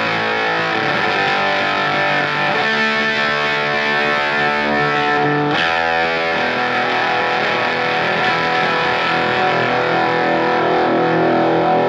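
Electric guitar played loud and continuous through a homemade Fuzz Face pedal switched to silicon transistors, giving a saturated, buzzy distorted tone with held chords and a brief break partway through, alone with no talking.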